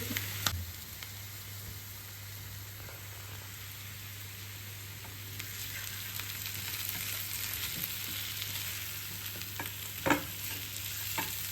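Potatoes with green coriander frying in ghee with asafoetida, a soft, steady close-up sizzle with a low hum beneath it, broken by a couple of brief clinks of a spoon against the pan.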